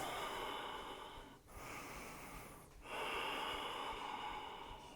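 Heavy, rasping breaths during an intense power yoga class, long audible inhales and exhales in close succession with brief pauses, loud and close.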